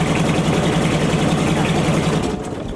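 A steady, low diesel engine of a longtail boat idles close by, a constant throbbing rumble with no talk, easing slightly quieter near the end.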